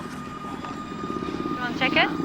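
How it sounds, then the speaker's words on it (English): A large remote-controlled airplane flies overhead carrying a test payload aloft, its engine a steady buzzing drone with a faint whine, while people talk over it. "a large remote-controlled airplane will carry Herky aloft and then drop it."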